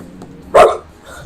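Person imitating a dog with a single short, loud bark-like yelp, delivered alone in a brief burst against quiet background.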